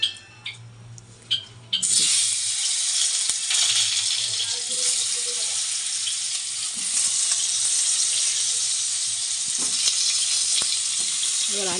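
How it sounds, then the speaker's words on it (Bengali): Potatoes frying in oil seasoned with a little salt, a loud steady sizzle that bursts in after a brief quiet start and crackles on close up for the rest, with only faint clinks and no talking. "তেলের মধ্যে একটুখানি নুন দিয়ে দিলাম আলুটা ভাজবার জন্য।"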